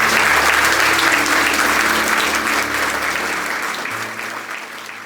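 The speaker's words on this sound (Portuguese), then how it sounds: "vamos dar um aplauso pela vida desse casal." Wedding guests at a ceremony applaud the couple with a full, continuous burst of clapping that slowly tapers off over a few seconds.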